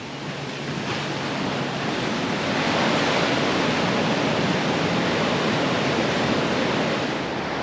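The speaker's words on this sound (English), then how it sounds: "And here come the waves." Ocean waves at Long Beach, California wash steadily onto the sand in a continuous broad roar that swells slightly and stays loud throughout, with no voices.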